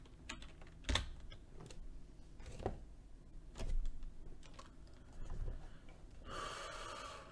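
Clicking keys on a computer keyboard while charting on a trading platform: irregular bursts of close taps and a few sharper knocks, ending in a brief rustling scrape, with no speech.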